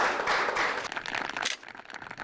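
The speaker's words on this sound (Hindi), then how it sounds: "जोरदार तालियां बजा दीजिए प्लीज।" An audience claps in applause at a farmers' quiz show on paddy cultivation, a dense burst of clapping that thins out and fades after about a second and a half.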